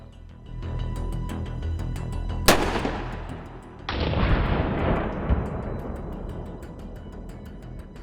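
Rifle rounds fired at a ballistic helmet during a live protective-gear demonstration: two sharp, loud gunshot cracks a second apart, each followed by a long booming decay and rolling echo outdoors.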